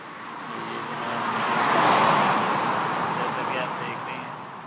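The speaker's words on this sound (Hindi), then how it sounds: "ये जनाब आवाज भी आपको आ रही होगी, ये जहाज गुजर रहे हैं." An airplane passes overhead at night above a busy road interchange in Lahore, a broad rushing roar that swells to a peak midway and then slowly fades, blended with steady distant traffic.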